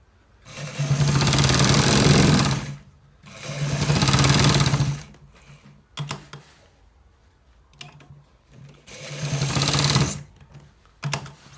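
Close, loud bursts of a sewing machine stitching both sides of a shirt, three long runs of a few seconds each separated by quiet gaps with brief clicks and fabric handling.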